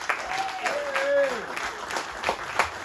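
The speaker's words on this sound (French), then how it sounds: "Applaudis Fanny pour moi." A crowd at a campaign list presentation in Saint-Louis claps steadily while a voice calls out and rises above the applause at moderate volume.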